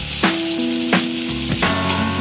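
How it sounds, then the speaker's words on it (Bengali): Potatoes for a Bengali fish curry frying in hot oil, a steady close sizzle with a few brief stirring scrapes, no voices. "মাছের ঝোলের আলুটা আমাদেরকে এইভাবে লাল লাল করে ভেজে নিতে হবে"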